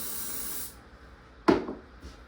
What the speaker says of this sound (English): your olive oil spray